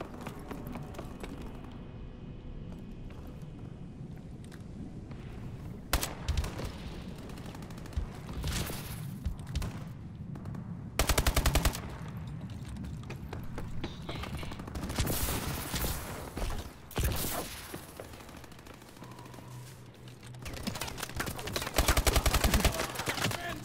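Rapid bursts of gunfire from Call of Duty Advanced Warfare crackle through loud, busy game audio, with repeated automatic volleys and heavy impacts layered over explosions and background battle noise.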